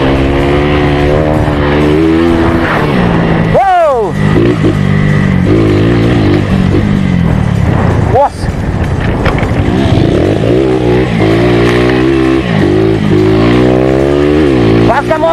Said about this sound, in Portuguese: Quase que a moto não para.